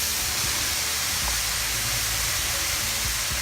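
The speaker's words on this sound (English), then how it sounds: "Now I'm going to add in the napa cabbage." Napa cabbage tossed into a hot udon stir-fry in a pan, giving a loud, steady, close sizzling hiss that runs unbroken throughout.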